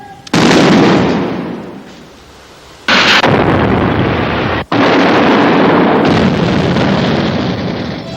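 A bomb disposal team's controlled explosion erupts in a loud close blast followed by sustained roaring rumble and a second heavy burst, the noise filling the air for several seconds.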